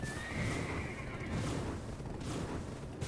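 A courser horse in Black Desert Online neighs in a loud whinny with faint hoof clatter, set over a dense, noisy game background.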